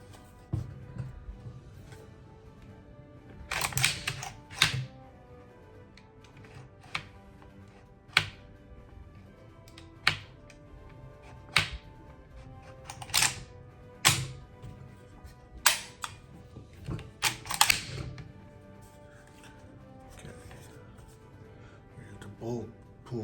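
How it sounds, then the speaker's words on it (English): Metallic clicks and clacks come from working the bolt and controls of a MAC 1014 shotgun, sharp isolated snaps spaced irregularly over about twenty seconds, loud against a quiet room. "Bolt pull back, as you can see."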